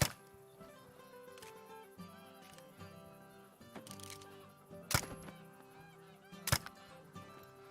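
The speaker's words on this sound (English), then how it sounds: "Oh, there's a bunch more geese" Geese honking in a hunting video game, with several calls layered over continuous game music and ambience and two sharp gunshot-like bursts cutting through near the middle and end.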